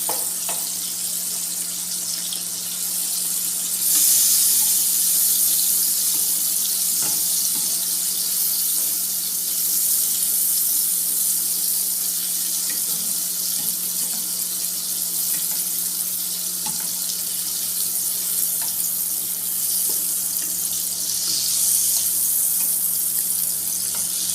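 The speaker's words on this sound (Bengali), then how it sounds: "চিংড়ি মাছগুলো ভাজা হয়ে গেছে।" Prawns fry in a pan for prawn malai curry, giving a steady, even sizzling hiss that runs without a break for the whole stretch, with no one speaking.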